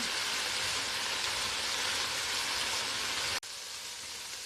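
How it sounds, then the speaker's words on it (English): Pork stir-frying over high heat for spicy Korean jeyuk bokkeum, a steady loud sizzle that runs on unbroken, then drops suddenly and continues more quietly near the end. "When you fry this, the stove better high heat"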